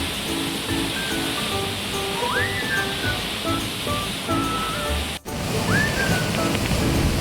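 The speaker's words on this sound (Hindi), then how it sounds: "अब यहाँ पूरी रफ्तार के साथ ये पानी ज़मीन में गिर रहा है" A fast waterfall pours into a deep pit in the mountains near Muktinath in Nepal, a loud, steady rush of crashing water with a few bird calls rising above it.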